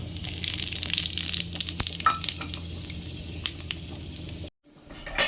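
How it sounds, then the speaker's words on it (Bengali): Radhuni, panch phoron, dried red chilli and bay leaf splutter and sizzle in hot oil in a pan. The crackling is close and steady and dips briefly to silence near the end, with no talking. "তেল দিয়েছি গরম হয়ে গেছে এইবার দেব রাঁধুনি পাঁচ ফোড়ন শুকনো লঙ্কা তেজপাতা"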